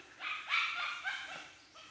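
A dog barks and yips in a few short bursts, fairly close, rising and falling over a couple of seconds with no talking.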